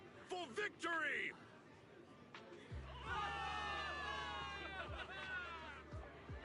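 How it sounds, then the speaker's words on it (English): Crowd of soldiers cheering and shouting in the video game Zenless Zone Zero, a dense roaring cheer swelling after a brief lull and holding steady under an announcer's voice, with a low rumbling hum beneath. "Give it up for yourselves, soldiers! Cheer for victory!"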